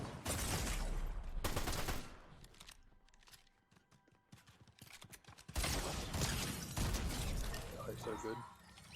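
A high-damage shotgun fired in a Fortnite match: loud, sharp blasts and heavy gunfire in two dense bursts, with quieter game noise between them.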